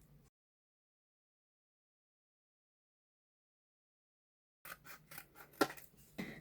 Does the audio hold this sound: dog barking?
no